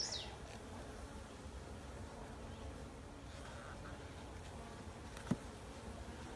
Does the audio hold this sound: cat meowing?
no